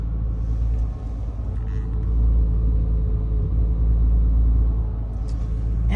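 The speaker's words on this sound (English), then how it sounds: "So this is the cold start after being in the garage about 4 or 5 days" A 2008 Porsche Cayman S idles after a cold start in a garage, a steady deep engine rumble held close and loud, swelling slightly midway and easing toward the end.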